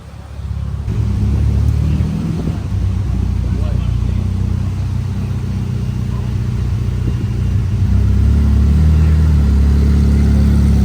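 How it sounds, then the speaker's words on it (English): A Ferrari F40 engine rumbles loudly and steadily with low throttle growl at a car show, swelling near the end as the car pulls away, with people talking over it. "And then yeah, the F40's leaving."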